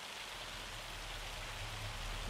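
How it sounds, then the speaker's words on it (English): Steady rain pours in Farming Simulator 25, a dense, even hiss of drops on surfaces that carries on without a break and with no other sound. "I can't actually hear anything other than rain."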